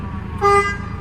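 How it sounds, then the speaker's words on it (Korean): A fire engine's horn at a Geumsan 119 safety center is sounded once during a daily equipment check, giving a loud, steady honk of about a fifth of a second, close by over a low background hum. "클락션 점검"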